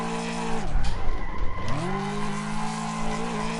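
A Mustang in a racing video game sweeps through a corner, its engine dropping in pitch then climbing back as the tires squeal and skid loudly, no talk.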